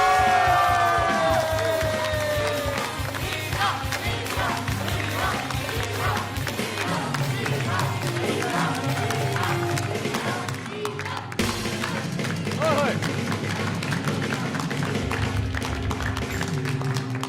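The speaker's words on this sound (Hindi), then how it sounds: "मैं चाहूंगा कि जब वो आए तो आप लोग खड़े होकर तालियां बजाएं" A studio audience on The Mazedaar Show applauds and cheers to welcome Meera, with steady loud clapping and whoops over a musical tone at the start, the crowd noise continuing throughout.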